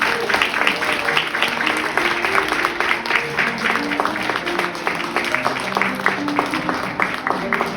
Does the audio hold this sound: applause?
yes